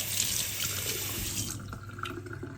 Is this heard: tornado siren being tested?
no